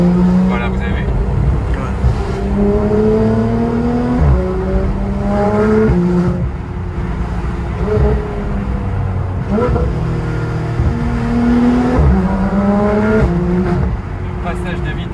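Porsche GT3 RS with PDK gearbox and an IPE exhaust, valves open while driving, revs climbing and dropping in repeated rapid gear changes, loud and close, with someone talking over it.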